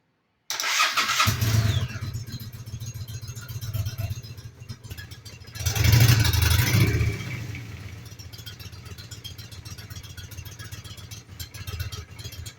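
A 2008 Honda Shadow Aero motorcycle engine with stock exhaust cranks and fires up, surges loudly for a moment, then settles into a steady, rumbling idle close by.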